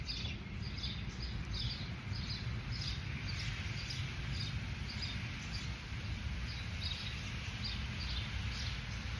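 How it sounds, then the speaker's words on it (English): Faint birds chirp in repeated short calls at a distance, over a steady outdoor background hum. "If I'm quiet, you might hear the birds."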